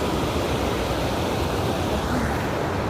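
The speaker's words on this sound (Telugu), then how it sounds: "ఈ పంట పొలాల్లో నుంచి వాటర్ వెళ్తున్నాయి" Rainwater pours out of crop fields near Pragadavaram, producing a continuous, dense rushing and gushing like a small stream or spillway, loud and close with no break and no voices.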